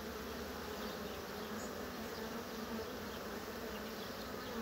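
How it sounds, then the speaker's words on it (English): Honey bees fill a full hive box and buzz in a continuous dense, even hum, heard close and alone with no talking. "The box is full of bees."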